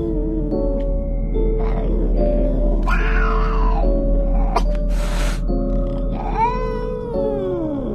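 A cat meows in a few drawn-out, wavering calls, the last one rising and then falling. The calls sound close and fairly loud over a steady low hum, and no one speaks.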